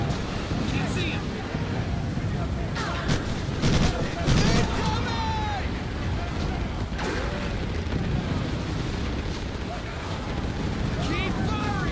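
Battle in the Pacific war shooter Medal of Honor Pacific Assault: bursts of rifle and machine-gun fire crackle amid a dense, roaring combat din, with soldiers shouting over the noise.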